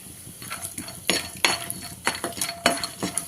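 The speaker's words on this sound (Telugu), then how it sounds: "అదే ఆయిల్లో వేరుశనగపప్పు వేసుకొని ఫ్రై చేసుకోవాలి" Peanuts frying in hot oil in a pan, heard as a steady crackle with repeated sharp metallic clinks and scrapes of a utensil against the pan, close and fairly loud with no talking.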